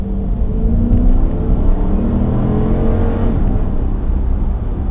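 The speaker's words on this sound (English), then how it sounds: "there's nothing like the wonderful sound of a big American V8" A 2019 Chrysler 300C sedan with a Hemi V8 of about 370 horsepower accelerates, a loud deep engine rumble building steadily under heavy road and cabin noise, heard from inside the car.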